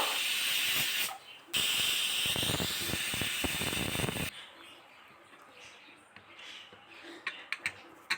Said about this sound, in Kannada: ಈಗ ನೋಡಿ ಎರಡು ವಿಜಿಲ್ ಕೂಡ ಬಂತು